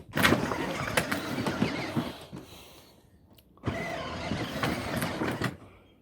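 A car's engine runs steadily as the vehicle backs up, swelling and fading in two broad bursts with a brief lull between, close by and fairly loud.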